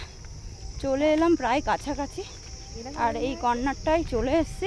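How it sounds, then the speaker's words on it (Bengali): Crickets keep up a continuous high, shrill drone at dusk in the countryside, steady in the background while a person talks over it. "আর এদিকে ঝিঝি পোকার ডাকটা শুনতে পাচ্ছ"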